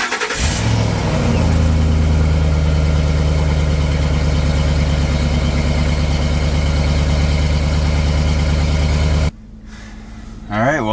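A 2005 Ford Expedition's engine runs steadily for about nine seconds, a deep continuous hum with a brief rev near the start, then cuts to a quieter interior with rustling.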